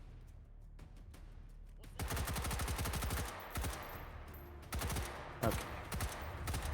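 Rapid automatic gunfire in a competitive video game match, faint isolated shots at first, then loud sustained bursts with short pauses between them, and a voice briefly speaks.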